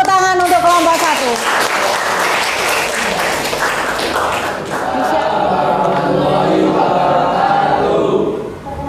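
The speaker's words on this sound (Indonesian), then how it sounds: "Beri tepuk tangan untuk kelompok 1." A classroom applauds a student presentation group, with steady clapping lasting several seconds. Voices talk and murmur in the room over the applause.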